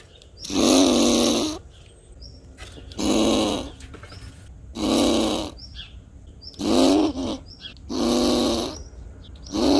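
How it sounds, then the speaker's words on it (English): Five loud, deep roaring bursts, each about a second long, repeated at steady intervals with quieter pauses between them; no talking. "The squirrel is trying to make a deep roaring sound to try and scare away a bird"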